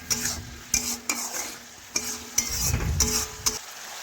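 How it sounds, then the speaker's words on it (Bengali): Mustard paste and tomato frying in a pan for a Bengali fish curry, with a steady sizzle broken by repeated scraping strokes of a spatula stirring the mixture up close. "টমেটো একটু গলিয়ে নেওয়া পর্যন্ত একটু ভেজে নিচ্ছি"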